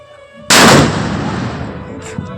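A Jai Hanuman capacitor firecracker bomb, set off for Kali Puja, bursts with one loud, sharp blast. A long, rumbling decay follows, then a small pop near the end.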